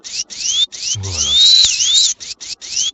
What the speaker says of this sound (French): perceuse pour le béton, ça!